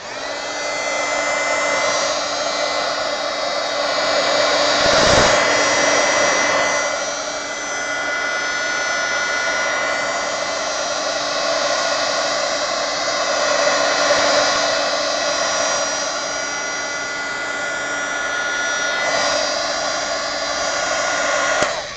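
A heat gun blows a steady, loud stream of hot air onto a stenciled mixed-media canvas, a continuous whooshing roar with a brief bump partway through and no talking.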